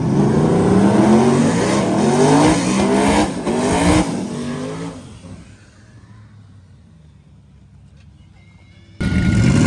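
A drag race car launches out of the burnout box with a loud, rasping engine roar that rises through rapid revs, then fades away into the distance, leaving near quiet before another burst of noise.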